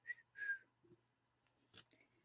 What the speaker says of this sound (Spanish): Dame silbidito.